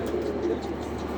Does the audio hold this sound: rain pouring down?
no